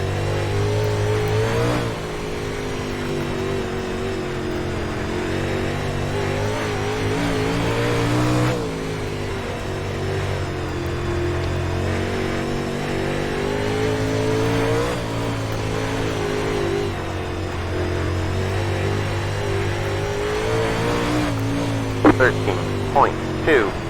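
A dirt-track modified race car engine in the racing simulator iRacing, droning and revving steadily near the mic through a qualifying lap, pitch rising and falling around the corners, with someone talking over it.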